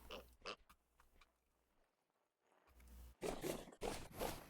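Pigs oink and grunt in the video game Vintage Story, a few scattered calls early on, then a louder cluster of close, overlapping grunts toward the end.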